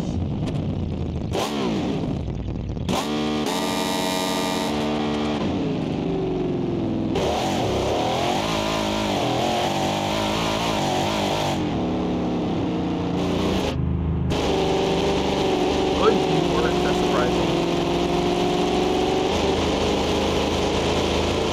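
A high-horsepower car engine in the BeamNG driving game revs hard. Its loud, continuous whine climbs and falls in repeated sweeps, with no talking over it.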